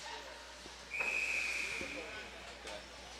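A referee's whistle blows during a women's college ice hockey game, a single sustained shrill blast lasting about a second over arena crowd noise, with announcer-style talk faintly present.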